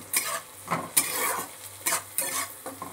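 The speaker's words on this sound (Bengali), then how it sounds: "এটাকে আবার নাড়াচাড়া করে নিচ্ছি পেঁয়াজ আর রসুনের সাথে।" Onion, garlic and tomato are stirred in a cooking pot over a gentle sizzle, with a spoon scraping and knocking the metal in irregular strokes, close by.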